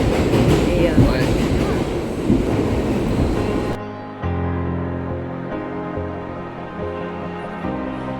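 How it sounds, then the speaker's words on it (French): A New York subway train rides along with a loud rumbling roar that shifts after a few seconds into a steadier humming drone with metallic tones, continuing to the end. "là on est dans le métro"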